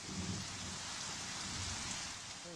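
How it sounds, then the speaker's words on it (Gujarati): Evening rain falls steadily on surfaces around Morbi, Gujarat, a broad, even wash of sound with low thundery rumbling beneath it and no voices. "મોડી સાંજે વરસાદ પડ્યો છે મોરબી અને આસપાસના વિસ્તારોમાં"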